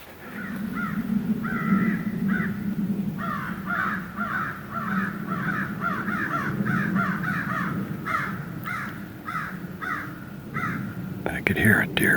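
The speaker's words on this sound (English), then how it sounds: "These crows just came over." Several crows caw repeatedly overhead in bursts in the woods, harsh calls scattered across a steady low background hum, with a few louder caws near the end.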